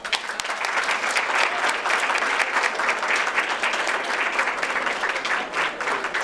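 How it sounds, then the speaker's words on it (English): Steady, sustained applause from an audience at a Republic Day of India celebration, dense clapping filling the whole stretch with no voices rising above it. "Please join me in applauding her."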